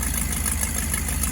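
An old 1980s Ford F-150 engine, freshly tuned down, idles steadily with a continuous low rumble and no voices, holding an even level throughout.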